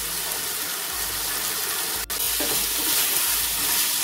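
Peas cooking with ginger and cumin spice paste in a hot pan give a steady, close sizzle and hiss, with one brief sharp click partway through and no voices.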